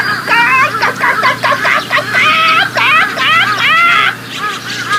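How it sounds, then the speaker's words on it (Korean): A string of sharp, high, chattering magpie calls repeats rapidly for several seconds, loud and close, with a faint low hum underneath. "높고 날카로운 까치 울음소리가 들렸어요."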